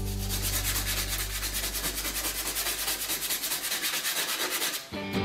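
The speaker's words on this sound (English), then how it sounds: "Here I have a 120 grit sandpaper and start leaving scratch marks working manually." Hand sanding of rusty car body metal with 120 grit sandpaper, a loud, close and rhythmic back-and-forth rasping that stops abruptly near the end, with rain falling outside.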